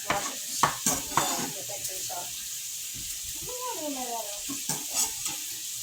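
Onions fry and spatter in a hot pan for sauerkraut soup, with steady broadband sizzle, sharp pops early on and scattered utensil clinks. A voice speaks briefly over the sizzling partway through.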